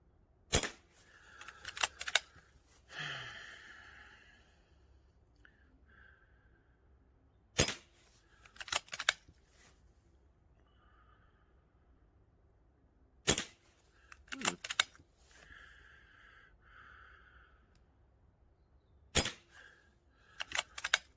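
Karl NP02 budget air rifle firing Marksman pellets lubed with Napier lube, four sharp, distinct shots spaced several seconds apart, each a crisp crack with quick mechanical clatter, fairly close and alone.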